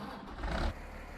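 Engine of a 7250 tractor idling in Farming Simulator 19, recently overhauled, a low steady rumble with a short swell in the middle before settling back to an even idle, close and alone.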